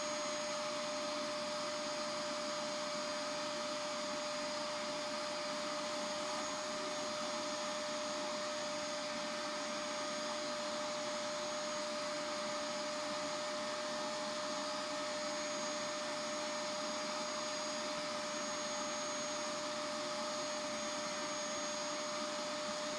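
A Bissell SpotClean Turbo carpet cleaner runs steadily throughout, a loud close motor whine with a constant high tone and airy suction roar, no pauses and no talking.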